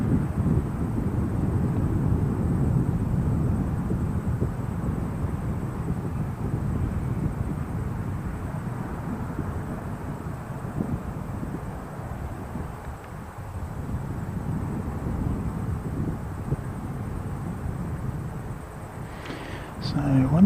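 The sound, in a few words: Jetstar airliner passing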